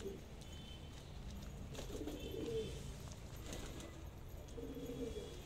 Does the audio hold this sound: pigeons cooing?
yes